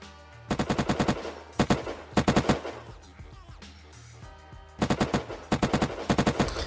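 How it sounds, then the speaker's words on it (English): Rapid bursts of automatic rifle fire from the video game Unturned ring out in short rhythmic volleys, separated by brief pauses, crisp and close. "It uses military ammo, so any kind of military drum or military mag, and that's what it sounds like"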